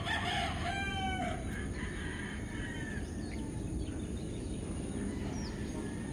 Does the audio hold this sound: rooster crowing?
yes